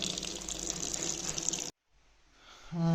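Tap water running and splashing as a child's eyes and face are washed, a steady hiss that cuts off abruptly, then a quiet pause before water starts again.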